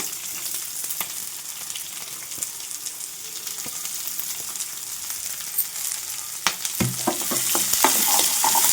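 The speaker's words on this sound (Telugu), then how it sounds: "వీటిని కూడా అటు ఇటు తిప్పుకుంటూ చక్కగా ఫ్రై చేసుకోవాలి" Onion, green chili and garlic pieces sizzle in hot oil while being stirred back and forth, a steady close frying hiss with scattered scraping taps that grows louder and busier toward the end.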